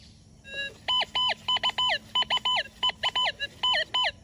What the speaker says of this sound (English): the coil needs to be waving over the target to receive a target tone